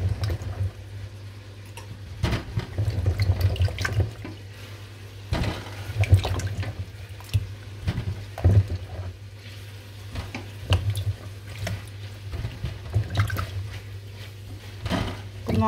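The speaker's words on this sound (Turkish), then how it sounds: "Çilekleri de yıkayalım." Strawberries being washed under a running kitchen tap, water splashing into a sink with irregular clatter and knocks of fruit and a bowl, close and continuous without speech.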